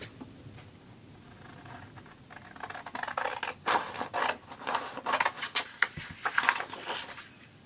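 Paper journal pocket template being cut out, close-up crisp snipping and scratchy paper rustle that starts quietly and grows into irregular bursts of sharp cuts, with no talking.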